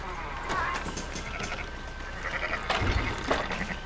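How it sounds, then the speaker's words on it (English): Sheep bleat a few times while being herded as rustled livestock in Red Dead Redemption 2, several calls spread across the stretch, with a voice talking over parts of it. "Trying to herd some fucking sheep"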